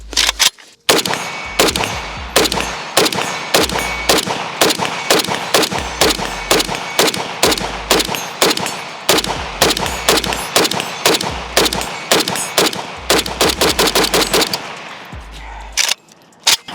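A cheap AK rifle fired through a full magazine, loud evenly spaced single shots in steady rhythm, close and sharp, speeding into a quicker cluster of rounds near the end before stopping.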